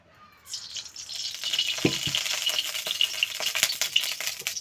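Panch phoron whole spices crackle and sizzle in hot oil in a wok (kadai) for a mango and fish curry, a bright steady frying hiss with a few sharp pops and stirring clatters, close and without talk.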